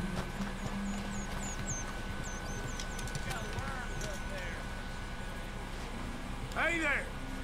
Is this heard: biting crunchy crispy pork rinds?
no